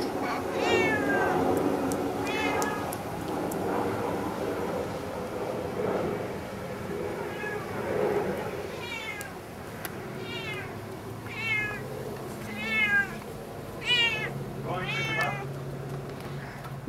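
A cat meows repeatedly in a household, several short rising calls clustered toward the end, fairly close but soft, over a low background hum.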